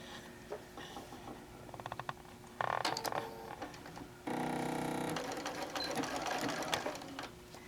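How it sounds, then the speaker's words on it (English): A sewing machine runs a regular straight stitch across a fabric placemat panel, starting with a few quick stitches, then settling into bursts of fast, steady whirring and needle clatter, close and fairly quiet. "And I'm just going to sew these guys down."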